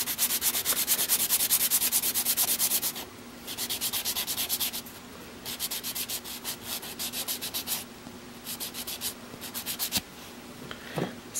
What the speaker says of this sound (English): the last stage is to do some sanding. I'm using a sanding block